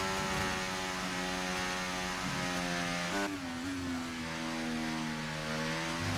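F1 race car engine in F1 24: a steady, high-pitched whine holds a sustained tone, drops sharply around a gear shift and then settles at a lower pitch, loud and continuous with no talk.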